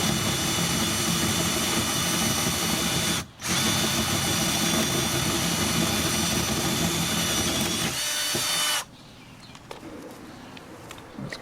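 A power drill bores a 3/4 inch hole through a shed wall for a solar panel connector, a loud sustained grinding whine with one brief pause, then stopping to near quiet with faint outdoor sounds.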